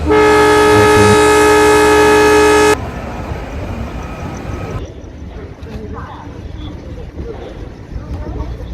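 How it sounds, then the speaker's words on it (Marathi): A loud, steady train horn blast holds for nearly three seconds, then cuts off, leaving a rumbling background with faint voices, as a train departs a station platform. "ट्रेनचा हॉर्न वाजला"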